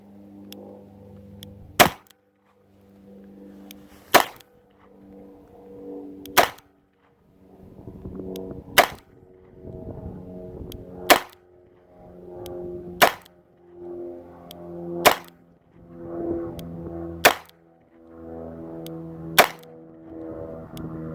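A Smith & Wesson 617 4-inch .22LR revolver firing Winchester rounds outdoors: about nine sharp, loud single shots spaced roughly two seconds apart, with a low background rumble between them.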